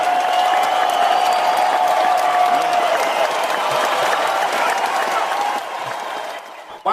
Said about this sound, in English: Why was his claps louder than mine, Snitchy?